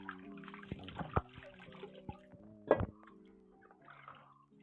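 Water splashes and drips as soil is rinsed by hand off lesser yam tubers, with a few sharp knocks and sloshes at a close, quiet level.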